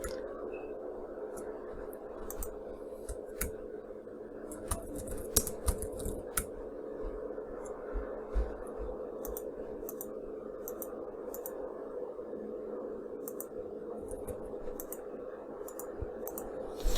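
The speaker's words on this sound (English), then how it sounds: "You can also just do some typing and see." Steady, rapid clicking of keys on a computer keyboard, irregular taps running close and fairly quiet over a constant background hum, with no one speaking.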